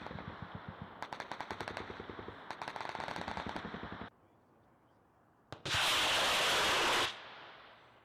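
An APOBS breaching rocket launched during Marine training, heard after bursts of rapid machine-gun fire: a sudden loud roaring rush of about a second and a half, close and harsh, with no voices.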